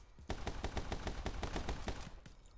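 Rapid bursts of gunfire from the video game My Friend Pedro, a steady run of sharp, evenly spaced shots lasting a couple of seconds, loud and close with no talking.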